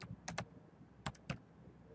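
Someone types a web address on a computer keyboard in a few quick, separate clusters of keystrokes. The clicks are close but quiet, and there is no talking.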